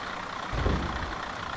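The diesel engine of a KiHa 750 railcar in a train simulator game starts after coupling, as a brief low rumble that swells and settles into a quiet idle.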